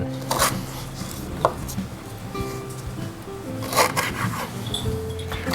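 A knife slices through fresh lemongrass on a cutting board, giving a few crisp, separate chopping strokes spaced apart, with faint scraping in between at close range.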